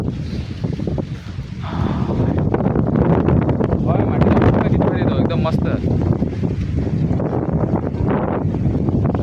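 Wind blows strongly across an open rural area just before the first monsoon rain, a steady buffeting rush with gusts hitting the microphone, while a person talks over it.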